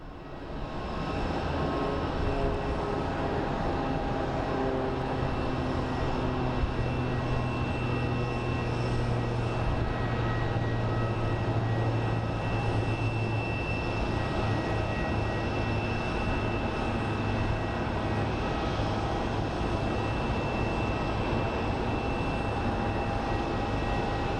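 Airplane at Phoenix Sky Harbor International Airport, a loud, continuous jet engine roar with a droning rumble that holds steady throughout, heard close and alone.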